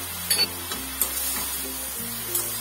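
Spice pastes for a vegetarian cabbage dish sizzling in a pan, a soft steady hiss with a few light clinks of stirring, over a low background hum.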